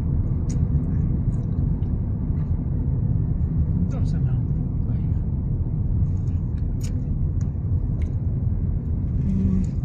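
Slow holiday traffic crawls through the Genting Sempah tunnel, a steady loud engine rumble filling the enclosed space, with voices talking over it.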